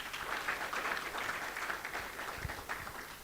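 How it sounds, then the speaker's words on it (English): Applause from a ceremony audience for Andrew at a launch event, a steady wash of many hands clapping at moderate level throughout, a few lower thumps near the end. "Andrew, please give him another round of applause."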